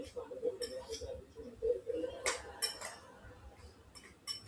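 A knife stirring cinnamon into sourdough filling, with faint scattered metallic clinks and scraping in a bowl under a speaking voice.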